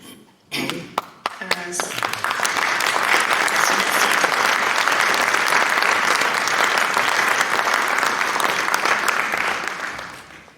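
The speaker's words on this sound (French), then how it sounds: "Merci, vos applaudissements" After a few isolated claps, a hall audience breaks into dense, sustained applause at the end of a question session at a talk in Tavannes, Switzerland; the sound is loud and even and continues for about eight seconds.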